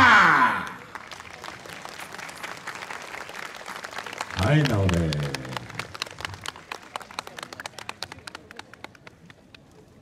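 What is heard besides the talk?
audience applause and hand clapping after a yosakoi dance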